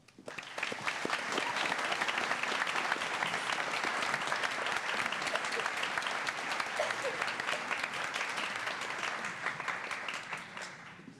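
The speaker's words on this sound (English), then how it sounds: "Go ahead and give them a round of applause." Sustained audience applause at an honors night ceremony, a dense wash of many hands clapping that builds quickly and holds steady for about ten seconds before tapering slightly at the end.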